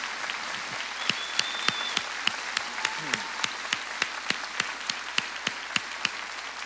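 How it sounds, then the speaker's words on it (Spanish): A live talk-show studio audience gives applause for the crew, heard as a thin, fairly faint stream of regularly spaced individual claps, with a voice faintly present. "pido un fuerte aplauso para todo el equipo que hace posible esto todas las noches."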